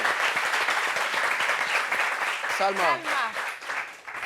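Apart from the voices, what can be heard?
audience applause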